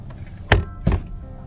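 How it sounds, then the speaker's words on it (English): Two loud, close bangs on a truck window, spaced about a third of a second apart, each a dull, heavy thump over a low background hum. "he bangs really loudly on his truck window."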